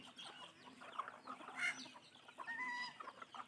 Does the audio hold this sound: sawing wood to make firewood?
no